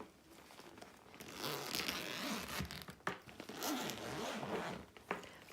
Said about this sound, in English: this has two zippers on both sides